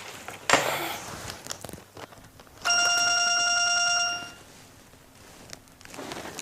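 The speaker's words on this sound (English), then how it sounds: "Linda, the phone is ringing." A telephone rings once in an indoor office setting, a bright electronic trill lasting about a second and a half, preceded and followed by soft footsteps and shuffling.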